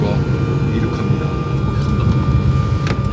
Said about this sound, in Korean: 이제 곧 비행기가 이륙합니다.